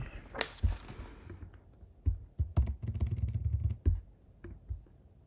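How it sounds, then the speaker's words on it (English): Computer keyboard typing during online chess training, irregular bursts of sharp clacky keystrokes, close and fairly loud, with short pauses between clusters. "Input moves with keyboard."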